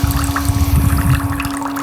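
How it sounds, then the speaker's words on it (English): A portable folding washing machine runs its spin cycle while set over a sink, giving a steady motor hum with a continuous wash of draining, trickling water and no talk. "And it runs for 6 minutes, the spin cycle."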